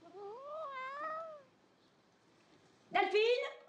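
A cat, an abandoned kitten in a shop window, gives two clear meows, a wavering drawn-out one and then a short louder cry after a pause, alone and fairly close.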